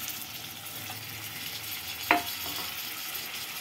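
Cleaned mutton frying in oil with ginger paste and coriander powder, giving a steady close sizzle with one brief metallic scrape of a ladle partway through.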